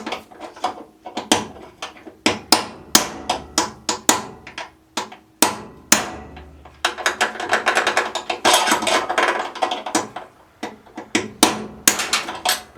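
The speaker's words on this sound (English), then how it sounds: "I'm going to drive the bottom bearing out first and replace that one" Repeated sharp metallic hammer strikes drive a bearing out of a Craftsman LT1000 riding mower, with irregular bursts of clanking blows and brief pauses between them, close and loud.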